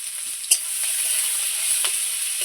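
Large onions and medium garlic cloves fry in a pan for a duck egg dish, a steady bright sizzle up close with a couple of soft spatula scrapes and one sharp knock.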